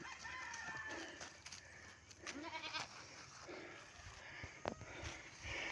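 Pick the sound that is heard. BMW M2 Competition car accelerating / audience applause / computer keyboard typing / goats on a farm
goats on a farm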